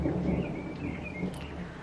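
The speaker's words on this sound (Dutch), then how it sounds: "Hoor je dat? Ik weet het niet, maar onweer." Thunder rumbles low and continuous during a thunderstorm, with a soft hiss of rain over it and no voices.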